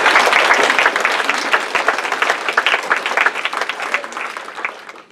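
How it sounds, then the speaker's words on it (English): Sustained audience applause at a county prosecutor candidates forum, dense clapping from a crowd that stays loud throughout before tapering slightly at the end. "give a round of applause for everyone that pitched in to make this possible"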